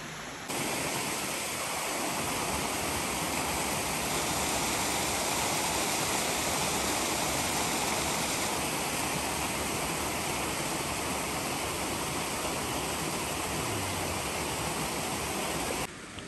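Owen Creek flowing near a campground, a steady, dense rush of water that fills the whole stretch evenly, close and constant with no voices.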